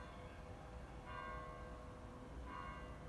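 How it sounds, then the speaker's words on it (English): A church bell tolls the hour of ten o'clock, with two slow, ringing strikes about a second and a half apart, sounding at a distance over a steady background hum. "That will mean it's 10 o'clock, I think, so there'll be 10 bells."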